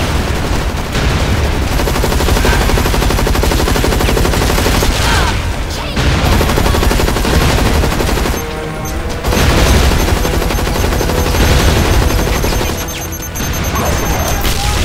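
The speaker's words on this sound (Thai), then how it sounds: "เสียงปืนกลจริง" Rapid machine-gun bursts and booms fire almost continuously in a loud soundscape from the video game Blackfire Online, PVE survival mode, with brief pauses between volleys.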